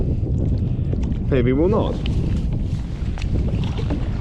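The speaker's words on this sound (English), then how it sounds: "And the wind's gusting" Gusty wind buffets a kayak at sea, a steady broadband roar of wind noise on the microphone throughout, with a brief voice heard partway through.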